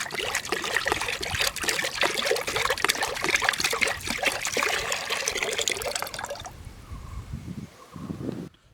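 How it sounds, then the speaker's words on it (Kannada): Water being poured into a vessel for a home remedy, a continuous close splashing trickle that fades and stops near the end, followed by a few soft knocks. "ಮೊದಲಿಗೆ ಉಯ್ಯೋಣ ನೀರು."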